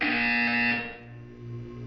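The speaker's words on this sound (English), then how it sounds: "You will hear a buzzer." A harsh electronic buzzer in the video game Portal 2 sounds loudly for under a second, then fades into a lower, lingering hum.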